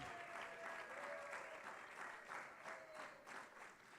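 Audience at a tourism compliance workshop applauds as a speaker walks on stage, a faint, distant patter of clapping that swells and eases in waves, heard alone without talk.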